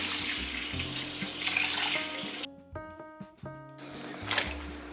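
Water runs steadily from a kitchen tap in a strong, broad rush, then briefly thins and changes pitch before gushing again.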